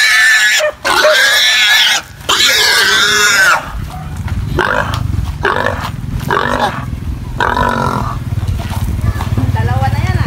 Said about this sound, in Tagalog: yan ang baboy